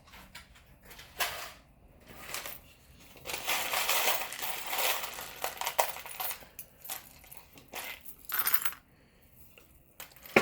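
Small metal charms and keys being pulled and dropped, a run of light metallic clinks and jingles with scraping rustles between them, close and quiet, with no talking.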